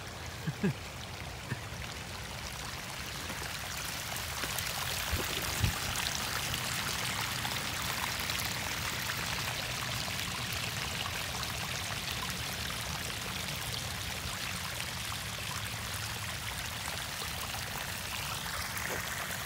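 Water pours steadily from a pond overflow outdoors after an ice storm, a continuous faint rushing and trickling that carries on unchanged with a few small knocks near the start.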